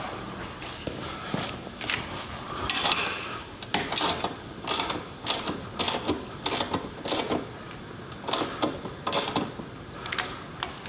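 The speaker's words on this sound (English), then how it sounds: "I'm gonna crank this up a little bit on the lift, just make sure everything spins free and proper." A motorcycle lift is cranked up under a 1995 Harley-Davidson Evo Softail with its rear wheel remounted, giving repeated ratcheting clicks and mechanical clanks in an irregular rhythm, close and fairly loud, for about ten seconds.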